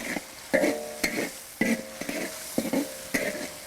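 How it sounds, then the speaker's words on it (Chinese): Dried Sichuan peppercorns and doubanjiang stir-fried in rapeseed oil with ginger, garlic and dried chilies: a loud sizzle broken by rhythmic scraping strokes of a spatula against the wok, about one each half second, no voices. "干花椒、豆瓣酱，炒出红油来。"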